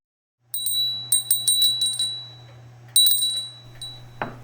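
A small bell rings in several quick clusters of bright, high tinkling strikes, close and clear, with a low steady hum underneath and a brief thump at the end.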